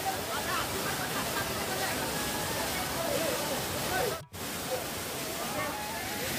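Water pours steadily at Bhairappa waterfall near Kalghatgi, a broad continuous hiss and rush filling the whole stretch, close and loud, with a brief dropout near the end and faint voices mixed in.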